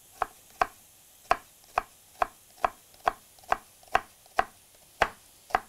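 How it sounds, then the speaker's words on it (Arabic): A knife chops onion into fine dice on a board: about a dozen crisp, evenly spaced strikes in a steady rhythm, close and alone. "هنفرمه فاين دايس، ما يعني مكعبات صغيره"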